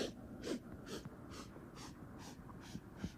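A run of short, airy sniffs repeats at a steady pace, roughly one every half second, close and fairly quiet with no talking.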